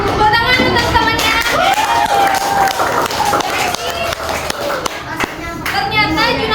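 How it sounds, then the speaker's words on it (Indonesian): Primary schoolchildren in a sixth-grade classroom clap for a classmate, with steady, loud, close hand-clapping mixed with excited young voices and chatter throughout. "Tepuk tangan untuk temannya."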